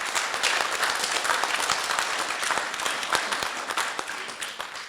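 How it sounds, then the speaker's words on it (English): Wedding guests at Le Belvedere burst into sustained applause for the venue staff during the reception speeches, a dense, steady wash of many hands clapping close by throughout, with no talking over it. "So a huge round of applause to them."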